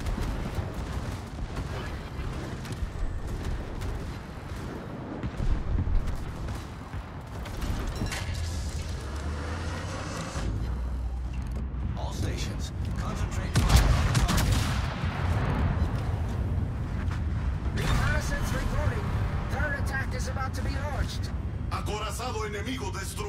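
Main guns of a Tier 10 Pan-American battleship, the Libertad, firing in the naval video game World of Warships: heavy, booming salvos over a continuous low battle rumble, with a stronger blast about midway and game voice callouts.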